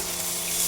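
Water poured from a tap into a spice mixture in a pan, a brief steady rushing stream, close and continuous, with no voices.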